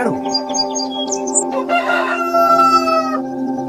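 A rooster crows loudly and close by in a single long cock-a-doodle-doo, mixed with clucking fowl, in a short animal sound clip made for children.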